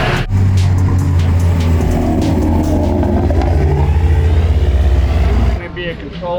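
Touring race cars at the start of a TC America race, heard from inside a car: a loud, steady engine roar and drone with rising revs, cutting off abruptly near the end.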